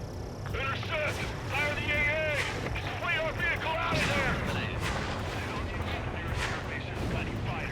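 Anti-aircraft fire in Ace Combat 7 thuds and crackles steadily beneath radio voices talking over it, within a dense, loud wartime game soundscape.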